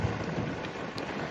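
Heavy rain hisses in a broad, continuous wash during a big storm by a mangrove-lined fishing spot, with a low thundery rumble underneath. The sound is steady and moderately loud, and no one talks.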